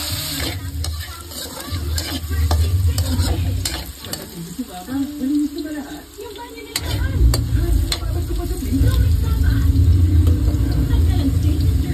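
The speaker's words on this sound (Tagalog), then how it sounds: "Pero i-fried natin ito." Chicken and broccoli marinated in oyster sauce, soy sauce, garlic and pepper fry in a pan with a steady, close sizzle, broken by scraping and stirring clatter and a louder hissing surge partway through.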